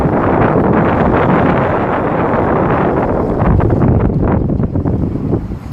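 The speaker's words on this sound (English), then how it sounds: "It's a little bit windy, so if you can hear that in the background" Steady wind buffeting the microphone outdoors on a harbour front in Kefalonia, Greece, a loud continuous low rumble with gusts rising and falling throughout.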